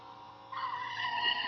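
A jet black Toyota Fortuner drifts with a short, faint tire squeal that rises into a sustained skidding screech, heard alone without speech.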